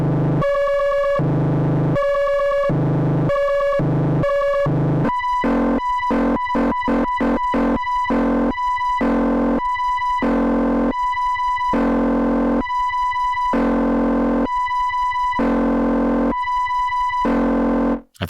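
A buzzy square-wave tone from a Malevolent semi-modular analog synthesizer pulsing on and off, first in slow even beats, then rapid chopped bursts, then longer steady pulses, loud and alone.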